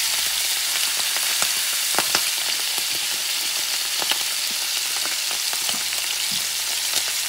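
Bison heart meat fries in a pan with a steady, close hissing sizzle, dotted with small pops and spatters throughout.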